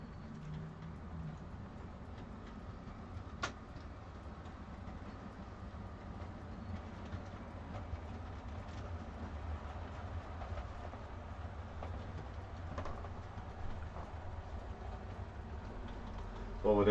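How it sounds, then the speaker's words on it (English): A freight train of tanker wagons rolls past Barnabas Junction as a steady low rumble with faint rail clatter, continuous and fairly distant, growing louder at the very end. "All them tankers passing again."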